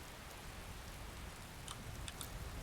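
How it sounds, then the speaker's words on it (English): Steady rain falls in the video game Skyrim, a soft continuous hiss of drops on the ground with a few faint patters and no voices. "our first day in Skyrim it's raining"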